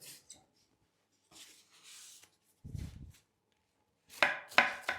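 A sharpened kitchen knife chops cabbage on a wooden cutting board in a few separate, close, crisp cuts with pauses between them, the last pair louder and sharper, and no voice.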